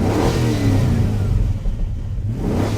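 A car engine revving, used as a fake sound effect for an electric vehicle, a loud sustained rising roar with a whirring edge, heard alone without any talking.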